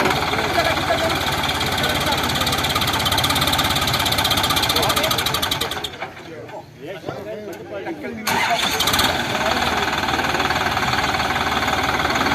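A Sonalika Maharaja or Swaraj 744 FE tractor diesel engine runs at zero throttle, a steady loud rumbling idle that drops away briefly midway before the chugging returns, with people talking over it.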